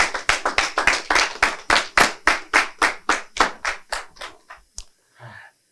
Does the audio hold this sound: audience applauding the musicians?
yes